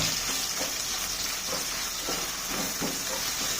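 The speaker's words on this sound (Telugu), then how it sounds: "మంచిగా ఫ్రై అయినాయి యాలకులు లవంగాలు జీలకర్ర" Whole cardamom, cloves and cumin seeds crackle and sizzle in hot oil for chicken pulao, a steady bright hiss with faint scattered pops and light stirring throughout, close and fairly loud, with no talking.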